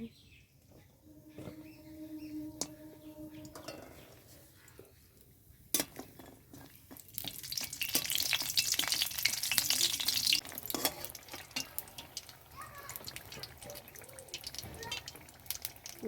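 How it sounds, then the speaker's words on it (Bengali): Lentil dumplings (bori) frying in hot oil in a pan: a quiet start with a few clinks, then a loud, dense crackling sizzle that rises midway and carries on with scattered pops, close up and with no voices. "এখন আমি এখানে তেল দিয়েছি বড়িগুলো ভেজে নেব"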